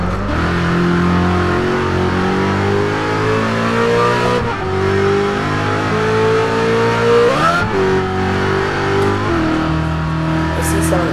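A car engine in the racing game Test Drive Unlimited 2 revs repeatedly, its loud droning tone climbing through the gears and dropping with each shift, dominating the whole stretch up close.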